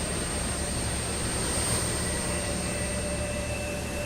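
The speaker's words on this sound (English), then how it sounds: "Pretty quiet on the engine start as usual" Embraer E175 jet engine spooling up in a flight simulator, a steady, loud broadband roar with a faint high whine held evenly throughout, no talk.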